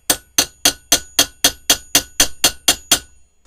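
A hammer taps a pin into an AR-15 barrel with about eleven sharp metallic strikes in a steady, even rhythm, close and loud, each ringing briefly before the next.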